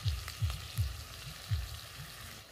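Masala of ginger, garlic and onion with tomato paste, ground coriander, chilli, turmeric and salt fries in a pan for a tuna curry: a low steady sizzle broken by about five rhythmic scraping strokes of a spoon.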